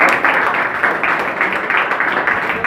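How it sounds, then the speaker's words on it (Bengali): Seminar audience applauding, a dense, steady wash of clapping from many hands that holds at an even level throughout, fairly close, without talking. "আমাদের মসজিদের জন্য তার জন্য একটা করতালি দিই।"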